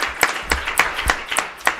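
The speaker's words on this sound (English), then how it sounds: "A round of applause." An audience at a panel event on digital migration and Africa's information space applauds with a short burst of distinct, evenly paced claps, close and clear, about six sharp hits in under two seconds.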